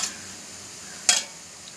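Browned onions fry quietly in a pan for chicken gravy under a low, steady sizzle. A single short stir or scrape stands out partway through.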